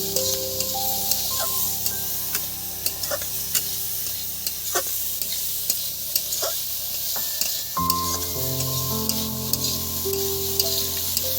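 Chopped tomato sizzles and fries in a pan for butter chowmein, with steady hissing broken by scraping stirs and clinks of a utensil against the pan, close and continuous with no talking.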